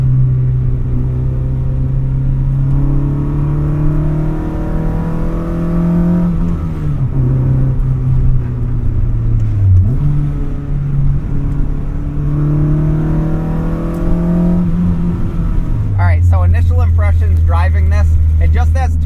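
A K24-swapped Mazda Miata MX-5 drones and revs loudly as it accelerates on a curvy back road, pitch climbing and dipping through gear changes, with a raspy burst near the end.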